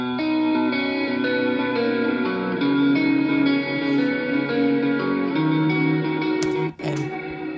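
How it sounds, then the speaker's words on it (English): Sustained clean guitar chords ring out under a wide Valhalla Shimmer reverb that blooms into a dense, glowing wash, ending with a short cutoff. "once you add in this really lush reverb to the bridge"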